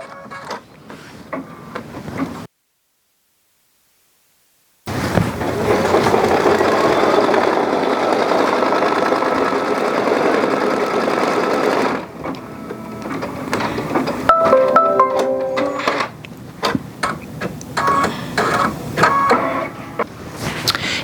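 A sewing machine stitches the placement line for a heart on the frosting of a cupcake stuffie, with a loud, steady mechanical buzz. It breaks off into a choppier run of rhythmic stitching bursts and clatter.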